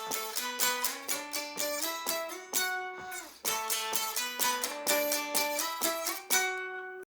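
Clean electric guitar plays the part of a song at 128 BPM, a steady run of picked notes and ringing chords with a short pause midway, close and clear with no talking.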